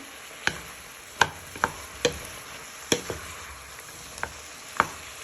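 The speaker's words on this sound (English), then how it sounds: "Give them a little bit of a toss into your meat, onion, garlic and ginger." Mushrooms tossed in a hot pan with meat, onion, garlic and ginger give off a soft steady sizzle, broken by sharp irregular clacks of utensil against pan every second or so.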